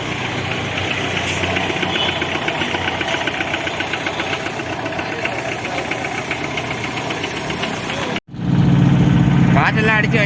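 A vintage Premier Fiat car's engine runs in top gear while driving, a loud steady knocking drone with vibration throughout that cuts off abruptly near the end, followed by a different hum and a brief voice.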